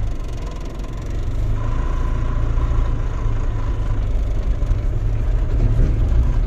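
A car driving in second gear during a driving lesson, its engine a steady low hum with road rumble, rising slightly in level after the first second and continuing evenly without talking.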